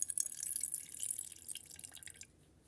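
Water from an LG washing machine that spins only its agitator and won't centrifuge, draining and trickling in steady drips and splashes. Brighter spattering fills the first two seconds, then it fades quieter toward the end.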